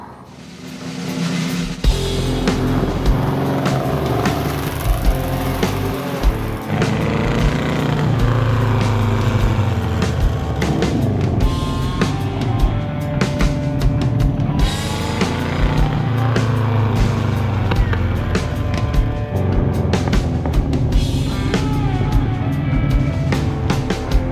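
A custom hot rod with a miniature, go-kart-like cabin drives past, its engine loud and continuous with revving and gear changes throughout, no voices over it.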